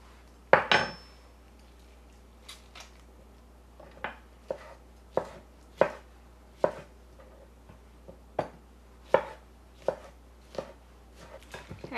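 Nectarines being cut with a knife on a cutting board, sharp distinct chops at irregular intervals, one loud clattering knock near the start, close and clear with no talking.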